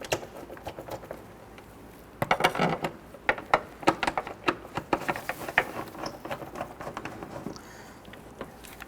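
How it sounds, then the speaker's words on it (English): A ratchet on an extension drives the air filter box screws of a 2006-2014 Honda Ridgeline, giving close, quick bursts of clicking that start after a quiet stretch and continue irregularly for several seconds, with no voices. "we're going to use our extension here to go ahead and get all of these screws started"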